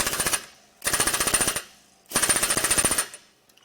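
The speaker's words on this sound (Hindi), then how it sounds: "इंपैक्ट से 3 बार अच्छी तरह ट्रिगर खींचना उस डिस्चार्ज हेड को कार्डॉक्स ट्यूब पर सुरक्षित करने के लिए पर्याप्त से अधिक है" Pneumatic impact wrench tightening a discharge head onto a Cardox tube, three loud rattling bursts of rapid hammering, each about a second long, separated by short pauses.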